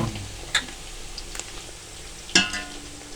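Onions frying in oil with green chillies added, cooking for Arabic chicken mandi; a steady sizzle runs throughout, with two louder bursts of spattering as the chillies go into the pan.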